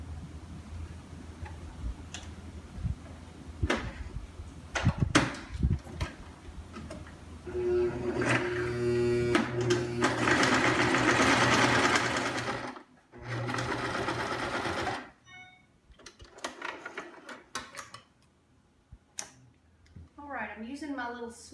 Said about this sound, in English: now I'm going to sew just some lines to hold the fabric together.